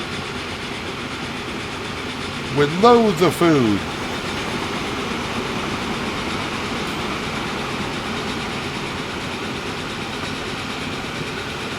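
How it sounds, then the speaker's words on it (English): A train passing in the Transport Fever simulation game, with a brief horn-like tonal call sounding over a steady rolling rumble of rail noise, while someone talks throughout. "Here comes the train going back the other way."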